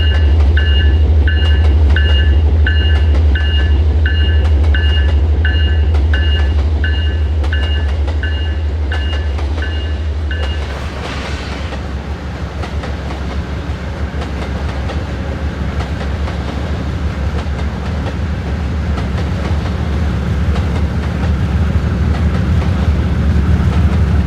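Freight train with distributed power units rolling steadily and loudly, a constant low rumble with rhythmic clatter throughout, a repeating electronic beeping in the first half, then the tone shifts around midway as the cars keep passing.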